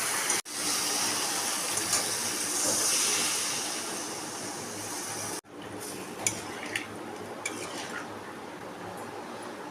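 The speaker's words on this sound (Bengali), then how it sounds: "আমি এবার এটার মধ্যে জল দিয়ে দেবো।" Water poured into hot, well-fried curry masala with potato and taro for an egg curry, a loud steady hiss of steam and sizzle that cuts off abruptly, followed by quieter bubbling and a few pan clinks.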